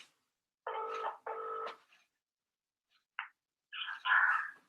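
A phone ringing on an outgoing call, two long ring bursts in a row near the start, then a short blip and a louder burst of sound, with no talk over it.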